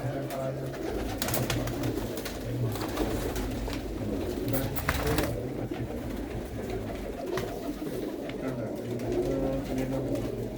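Seera Harigarh's pigeons coo in a steady low murmur for several seconds, nearby and fairly continuous, with some faint human voices mixed in.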